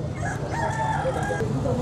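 A rooster at a poultry market gives one short, fairly faint crow over a busy background of murmuring voices.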